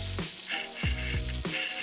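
Food fries in a pan with a steady, close, crackling sizzle, broken by a few soft scraping stirs.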